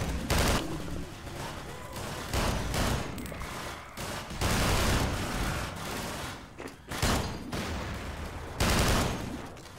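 Heavy, recoiling gunfire in the Half-Life 2 mod Entropy: Zero, repeated loud bursts and rapid volleys with short gaps between them, close and booming, with no talking.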